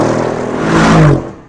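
AMG performance car engine under full throttle, a loud rising roar that swells and climbs in pitch before cutting off abruptly, with no voices present.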